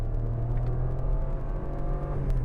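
Steady cabin engine hum of a 2017 Suzuki Swift RS Turbo with a 6-speed automatic under acceleration; gear changes are smooth and barely distinct, with a continuous low rumble and no talk.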